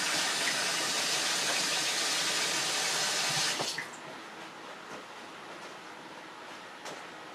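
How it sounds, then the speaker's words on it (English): A kitchen faucet runs steadily while hands are washed at the sink, a broad hiss of flowing water that cuts off partway through, leaving quieter room sound with a few small knocks. "Let me wash my hands."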